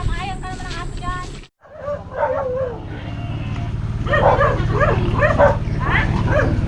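A dog barks and yips in quick bursts near the microphone, with people talking and background noise around it.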